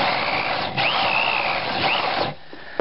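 A grain mill grinds malt for a hefeweizen brew, a loud, steady close mechanical whir with a faint rising whine, ending abruptly into quieter rattling.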